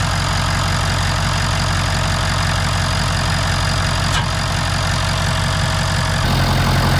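Ford 6.7 Powerstroke diesel engine idling up close with its crankcase vent hose blowing, a steady loud rumble and hiss with no talk.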